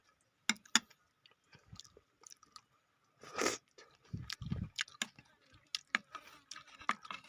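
Close, wet chewing and crunching while tasting a Thai curry of cassia leaves with beef skin, irregular bites and chews that grow busier toward the end, with no talk over them.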